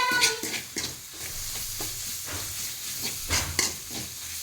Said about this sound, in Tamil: நல்லா மசாலா போட்டு நல்லா வதங்கணும்.